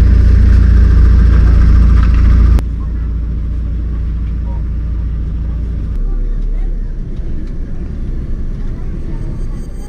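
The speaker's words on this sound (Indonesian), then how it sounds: "Kita sudah di bus Warawiri." Ride inside the free Warawiri shuttle bus at Taman Impian Jaya Ancol, with a loud engine drone and road rumble that drops in level after a few seconds and continues as a steady interior hum, with people talking faintly.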